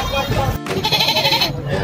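Goats bleat at a livestock auction market among buyers and sellers, the animals' calls mixed with steady crowd chatter and nearby voices throughout.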